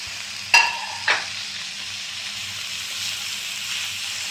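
Rohu fish pieces cooking in oil in a karahi, a low steady sizzle with two sharp utensil clinks near the start, then a continuous gentle hiss.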